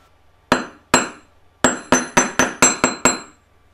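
A flat-faced hammer flattens a second piece of jewellery wire: two separate ringing taps, a pause, then a quick steady run of about seven bright metallic strikes, close and clear in a quiet space.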